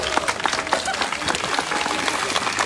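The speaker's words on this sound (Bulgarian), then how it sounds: "Много моля да чуя вашите бурни аплодисменти!" Outdoor crowd at a cycling parade event in Plovdiv claps and cheers, uneven bursts of hands close by, with voices and shouts mixed into the lively, fluctuating applause.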